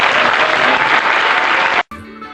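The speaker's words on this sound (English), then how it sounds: "I'd like a round of applause for Paco Martinez" A full, loud round of applause from an audience, steady for nearly two seconds before cutting off abruptly, with a brief snatch of music right after.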